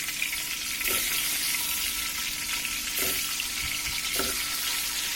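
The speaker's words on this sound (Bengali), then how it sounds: "ডিমগুলো ভাজা হয়ে আসলে তারপরে আমরা বেগুনগুলো ভেজে নেব।" Eggs frying in hot oil in a pan for a Bengali egg and eggplant curry give a steady, bright sizzle throughout, with a few soft stirring or shifting sounds underneath and no talking.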